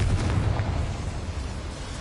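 A deep, rumbling blast from the Confringo fire spell in the Hogwarts Legacy video game, a loud continuous roar that fills the whole moment without any speech.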